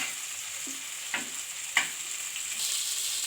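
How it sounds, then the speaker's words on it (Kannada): Fish frying in masala on a tawa makes a soft, continuous sizzle up close, broken by a few light scrapes of stirring, with no talk. "ನೋಡ್ರಿ ಈಗ ಸಂಪೂರ್ಣವಾಗಿ ಮೀನು ಫ್ರೈ ಆಗೈತೆ"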